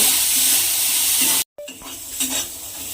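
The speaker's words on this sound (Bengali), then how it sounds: "দিয়ে ছোলাগুলোকে তেলের মধ্যে একটু নেড়ে নেব" Chickpeas sprinkled with a little salt being stirred in hot oil, a steady close sizzle and hiss with a brief silent cut midway, then lighter sizzling with occasional stirring scrapes.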